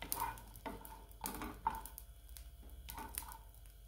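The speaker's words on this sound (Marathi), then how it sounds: "आता आपलं खोबरं भाजत आलेलं आहे।" Grated coconut roasting in a pan for egg curry, stirred with a spatula: repeated scraping strokes with soft sizzling and crackle, close and moderately quiet, with no talking.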